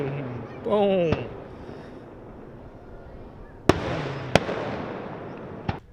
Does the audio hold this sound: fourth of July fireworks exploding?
yes